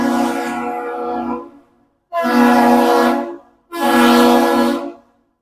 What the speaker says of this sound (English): So we have a frozen horn salute from the Great Republic.